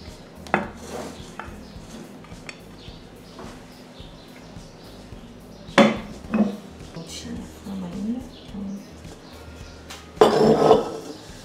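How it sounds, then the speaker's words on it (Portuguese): Chocolate cake is freed from a metal baking pan, giving scattered metallic clanks and knocks, with a louder rattling clatter near the end. A person talks through the kitchen handling. "Desgrudando as laterais. Agora vamos desenformando."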